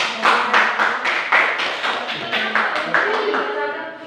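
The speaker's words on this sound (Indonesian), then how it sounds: "mari kita sama-sama berikan aplaus ya" A classroom of students claps together for a presenting group, a dense run of sharp claps with a loose rhythm, close and loud, and voices mixed in underneath.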